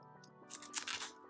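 A playing card is shuffled back into a deck during a tabletop card game, giving a quiet, brief papery riffle and flutter up close, alone without talk.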